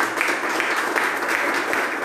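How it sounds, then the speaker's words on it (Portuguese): A church congregation applauding during a worship service, dense continuous clapping filling the room at moderate level, with no voices rising above it. "Eu quero que você aplauda a pastora Annalise"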